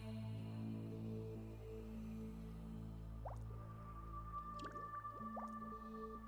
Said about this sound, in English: Why am I hearing water bubble? Oh, that's the Advanced 2 Collector